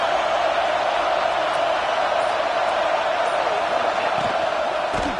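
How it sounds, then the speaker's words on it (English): A football stadium crowd roars in a dense, sustained wall of cheering and noise, loud and steady throughout, with no distinct voice standing out. "It's early, but this crowd is fired up."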